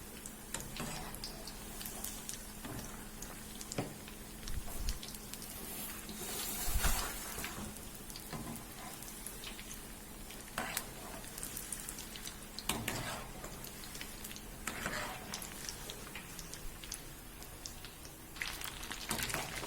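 Paneer snack pieces frying in hot oil, a steady, soft crackling and sizzling hiss that continues throughout with occasional louder pops, no one talking.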